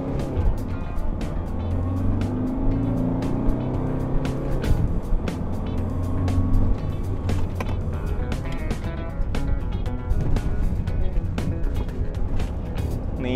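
A Honda Jazz engine climbs steadily in revs toward the red line inside the moving car, a sustained rising drone with mechanical ticks and clicks throughout.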